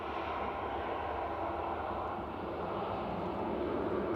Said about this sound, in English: There's the Ryanair from Faro.